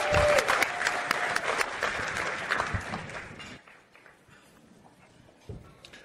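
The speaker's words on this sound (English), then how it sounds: "So let's give them a warm round of applause" A panel audience in Houston applauds the panelists, a loud, dense burst of clapping that thins and fades out after a few seconds, leaving a quiet room with a stray sound.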